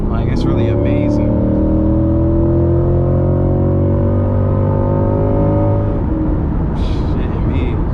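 2020 Chevrolet C8 Corvette Z51 with Performance Package accelerating hard from inside the cabin, a loud engine climbing steadily through the revs for several seconds, then easing off as people talk.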